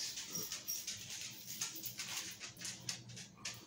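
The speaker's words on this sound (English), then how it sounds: "Y'all hear the tap tap of my dog coming in." A dog's claws tap faintly on a hard floor as it walks into a quiet home, a few soft, scattered clicks close by with no talking.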